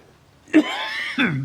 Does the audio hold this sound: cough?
yes